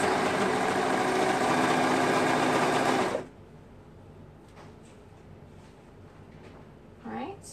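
A sewing machine runs fast and loud for about three seconds, stitching two stretched waistband layers onto one layer of a circle skirt, then stops, leaving quiet handling noises and a short voice.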